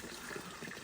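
Water trickling steadily onto maize flour in a bowl as it is readied for kneading, a soft and faint continuous pour lasting under a second.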